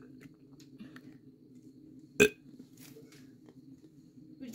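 A single loud burp sound effect bursts out midway, short and sharp, over a low steady background hum.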